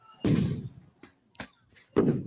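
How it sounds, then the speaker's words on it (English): Flashbang grenades go off in a crowd during unrest in Minnesota: a loud, heavy blast, then smaller sharp bangs, and another strong burst near the end. "Some more flashbangs. going off here in the crowd."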